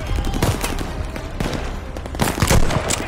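Machine gun fire in the video game Call of Duty: Vanguard, dense crackling volleys and booms that blend into a continuous battle din, loud and steady.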